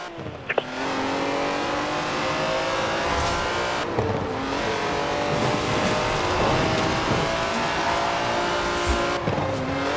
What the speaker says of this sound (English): That's a 90-year-old racing car. It's gonna take some handling.